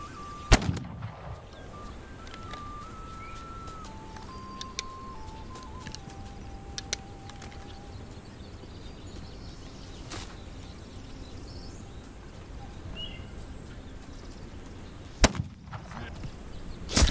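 Gunshots in the This Land is My Land video game: a sharp, loud shot opens, then a long quiet stretch with faint ambience and a few small cracks, and two more sharp shots ring out near the end.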